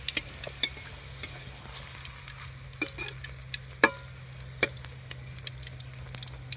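Pea-stuffed kachori deep-frying in a wok of oil gives a bubbling sizzle broken by frequent sharp crackles and spatter pops, close and lively, with occasional utensil clinks and no speech.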